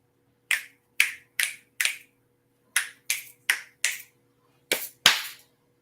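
Hands clapping close by, about ten sharp, crisp claps in uneven bursts of two to four with short pauses between, and no voices.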